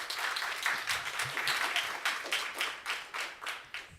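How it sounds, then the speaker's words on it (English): An audience at an education conference gives a round of applause, a modest crowd clapping in a fairly even, rippling rhythm at moderate distance, with no voices over it. "So could you please give Loz the biggest round of applause?"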